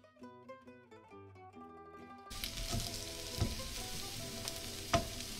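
After a short stretch of music, white and cremini mushrooms with garlic sizzle in truffle oil, a steady close frying crackle with a few stirring knocks.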